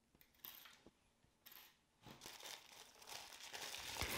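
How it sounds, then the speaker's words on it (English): Colored tissue paper, a hand-sized piece, crumpled into a ball for a paper orchid craft, giving close crinkling rustles in bursts that build to steadier crackling toward the end, with no voices. "Grab a piece of tissue paper the size of your hand and crumble it into a ball."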